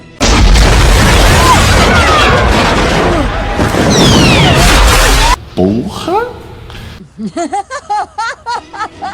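A loud, rumbling blast with heavy debris noise from a Chucky horror film fills the first five seconds, then gives way to chattering voices and short bursts of laughter.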